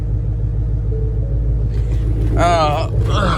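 A 2020 Ford Shelby GT500 drives along with a steady, loud low engine rumble throughout, and a dog's whine or brief vocal sound rises over it near the end.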